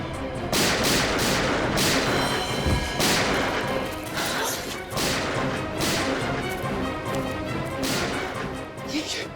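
Repeated sharp gunshot bursts in a scene of danger on a remote island, loud and dense, overlapping with crashes and cracks over a busy dramatic background.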